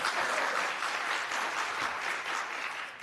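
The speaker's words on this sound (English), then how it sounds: "That was not supposed to be an applause line" Audience applause at a city council meeting, steady clapping from a room of people that holds at an even level and then starts to thin out toward the end.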